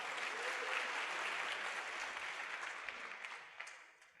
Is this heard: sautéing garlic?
no